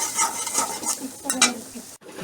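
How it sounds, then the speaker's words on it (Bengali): Ingredients for chira khichuri being stirred and mixed in a pan, with irregular scraping and clinks of a utensil against metal over a light sizzle, up close and alone. "সব উপকরণগুলোকে ভালোভাবে নেড়ে চেড়ে মাখিয়ে নিলাম"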